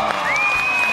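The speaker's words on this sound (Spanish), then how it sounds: "¡Aplauso para los Tacuña!" A TV comedy studio audience gives a short burst of applause and cheering for the Tacuña family, with a rising whistle over dense crowd noise lasting about one second.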